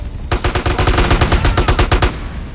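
Rapid automatic gunfire from an attack gunship in GTA San Andreas rattles out in a loud, close burst of roughly a dozen shots lasting about two seconds.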